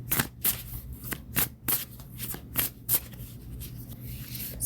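Tarot cards being shuffled by hand in quick, crisp bursts of riffling and snapping, several distinct shuffles in a row, close and fairly quiet with a faint steady hum beneath.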